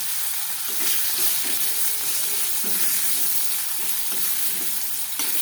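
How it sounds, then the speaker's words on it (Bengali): Boiled potatoes fry in oil with a steady crackling sizzle, broken by repeated soft scraping stirs, close by and without talk. "একটু ভাজা ভাজা করে দিব আলুটা"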